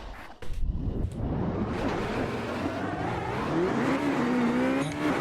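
Race car engine from the Assetto Corsa sim racing game, driven with mods in an eRacing setting, roaring steadily throughout with a rising pitch as it accelerates, loud and close, with no talk.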